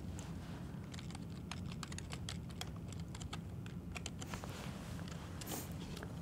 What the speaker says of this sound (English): I typed in the text that I wanted to say.